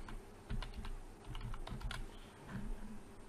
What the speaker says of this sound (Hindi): यहाँ मैं कुछ टाइप करूँगा